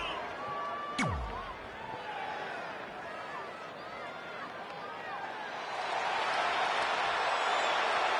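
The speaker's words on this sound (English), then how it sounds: "Listen to this crowd, guys. They're fired up for this one." A fired-up arena crowd in a PS4 wrestling video game keeps up a steady roar beneath a commentator's talk, the noise swelling louder toward the end after a brief sharp sweep near the start.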